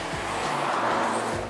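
A Ford Focus ST with a 2-litre GTDI four-cylinder EcoBoost engine drives past with a steady, loud broadband engine and road roar, a brief tire-squeal-like sweep near the start and another near the end.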